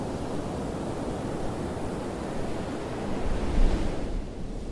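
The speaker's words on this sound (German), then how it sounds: "Mit der Annäherung an die Übergangszone zwischen Atlantik und Pazifik nehmen Wind und Wellengang" Strong wind and heavy swell in the open sea near Cape Horn, Wollaston Archipelago, where Atlantic meets Pacific: a continuous loud roar of surf and buffeting wind, swelling briefly near the end.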